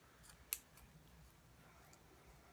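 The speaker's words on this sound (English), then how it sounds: "I'm just cutting directly across the bottom." Scissors snip through the bottom of a stuffed puppet with a single sharp cut, faint against low room noise.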